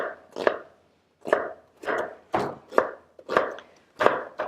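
Half an onion chopped with a knife in a home kitchen, about eight firm, evenly spaced cuts against a board, close and clear with nothing else heard.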